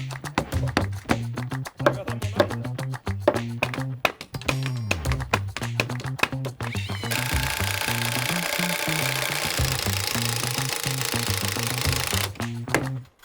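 Screws being driven into a one-day build by a power driver, rapid close mechanical rattling in short bursts, then a long continuous whirring run, with no talking.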